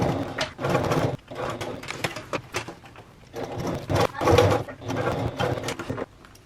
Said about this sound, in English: we're going to go back to the sewing machine and we're going to baste the front pocket onto the front panel